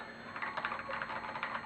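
Typing on a Winkeyless B.87 custom keyboard with Zealios switches and SA keycaps gives a soft, quick patter of clacky keystrokes in an irregular rhythm, close but quiet, with no talking.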